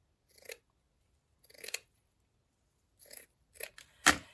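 Scissors cutting through paper wallboard tape, five separate crisp snips with pauses between, close and clear, the last cut loudest, with no talking.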